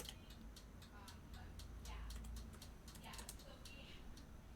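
Computer keyboard typing while entering a value in CAD software, a quick run of light key clicks close to the mic over a low steady background hum.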